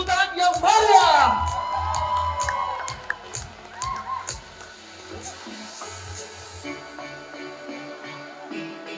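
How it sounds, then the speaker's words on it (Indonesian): A crowd at a batik fashion show at the Garut festival whoops and cheers loudly at first, then settles into scattered shouts and clapping with a voice speaking over the noise. "Beri tepuk tangan yang meriah."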